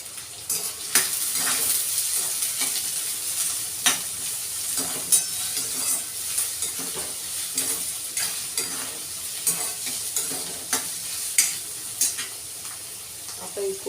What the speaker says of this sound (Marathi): कांदा टाकून घेतलेला आहे